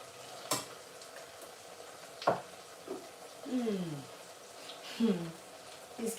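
Garlic hits a hot pan for cooking jollof-style tomato sauce, giving short bursts of sizzling and frying with stirring scrapes, close and moderately loud, interleaved with a speaking voice.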